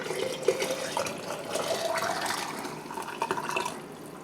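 Bone broth in a pot gives off soft liquid bubbling and gurgling with a few brief sploshes, close and moderate in level, with no talk.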